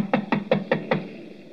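Five sharp knocks in a steady, quick rhythm rap on great glass doors late at night, close and fairly loud, then fade into quiet.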